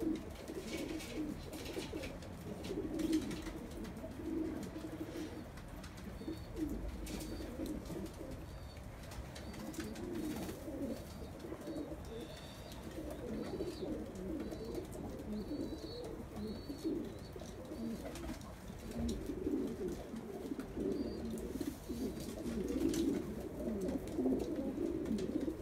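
Pigeons coo steadily in a loft, a dense, continuous murmur of overlapping low coos from many birds throughout, with no talking.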